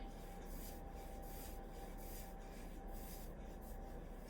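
Salt dough being rolled out on parchment paper, heard as a soft, continuous rubbing and rasping with a faintly rhythmic push, quiet and steady with no speech.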